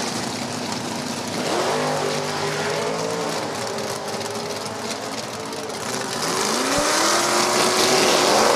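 A 1999 Camaro in A stock automatic trim launching at an NHRA Division 4 drag race, its engine rising in pitch through the gears and fading toward the distance, heard amid loud crowd and track noise.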